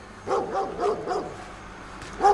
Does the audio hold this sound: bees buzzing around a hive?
no